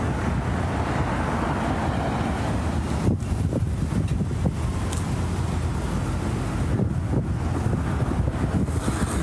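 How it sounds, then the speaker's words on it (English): Strong wind blows during the Los Angeles fires, roaring steadily and buffeting the microphone with a constant loud rumble that rises in gusts, with no talking. "And it's getting windier, which is not good."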